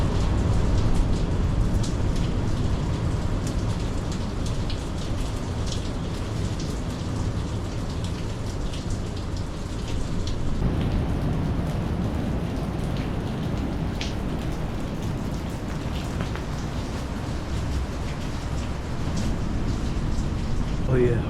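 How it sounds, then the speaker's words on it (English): Heavy rain pours down outside a sheltering cave during a spearfishing trip, a dense, continuous hiss of drops hitting surfaces close by, with people talking over it at times. "It is pouring outside."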